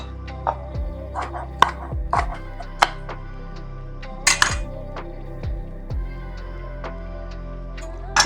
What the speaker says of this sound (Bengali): রেড পেপারটাই দিব এটাকে স্লাইস করে নিব